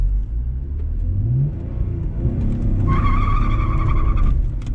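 A car learning to drift gets too much throttle: the engine revs hard, then the tyres let out a sustained high squeal as it pivots around, loud and close with no talking.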